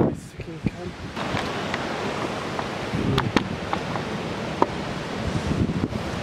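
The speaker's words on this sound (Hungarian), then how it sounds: "Rohadt jó az idő, de gondolom izomra fúj a szél." Strong wind gusting across a Miami ocean beach, a steady broadband roar with surf washing underneath and bursts of buffeting against the microphone throughout.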